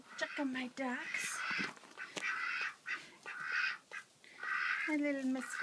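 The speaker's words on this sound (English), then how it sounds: "My little Muscovies." Several ducks calling close by, soft breathy quacks and hisses in short bursts with pauses between them.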